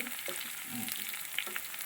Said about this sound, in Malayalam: കടുക് പൊട്ടിക്കഴിഞ്ഞപ്പോൾ നമ്മൾ വെളുത്തുള്ളി ചേർത്ത് ഉള്ളി ചേർത്ത്